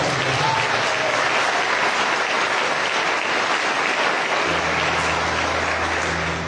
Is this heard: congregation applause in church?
yes